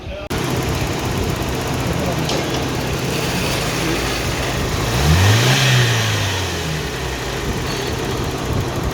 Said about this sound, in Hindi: थोड़े टक टक की आवाज़ अंदर से आ रही है,